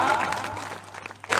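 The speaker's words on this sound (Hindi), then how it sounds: "एक बार ताली बजा के सम्मान देने बहनी मल्ला" Audience at a devotional gathering clapping briefly in honour, a short burst of applause that fades, then a sharp swell of clapping at the end.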